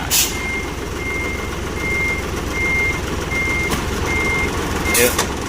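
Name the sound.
Isuzu 360 truck reversing beeps after shifting into gear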